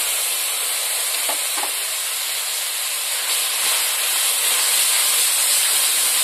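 Onion and coriander paste frying in hot oil with cumin, garlic and bay leaf makes a loud, continuous hiss and sizzle heard up close, with a couple of faint clinks of stirring early on and no voices.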